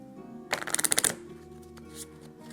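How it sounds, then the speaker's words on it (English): Arkham Horror LCG game cards from an encounter deck are riffle-shuffled: a quick, close burst of rapid fluttering card snaps lasting about half a second over a steady low background hum, then a few faint card handling sounds. "the rest of them, plus the other set-aside deck, plus the discard, get shuffled into the main encounter."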